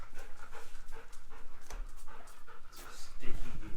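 Close, fast rhythmic dog panting in a workshop continues throughout, breathy puffs in a steady stream with a slight whine near the end.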